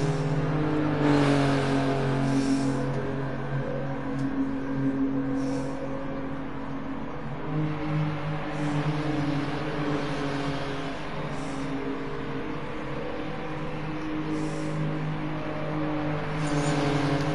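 Race cars running laps in a 10-lap race, a continuous engine drone heard from a distance with shifting revs and occasional passing surges, steady throughout with no talk.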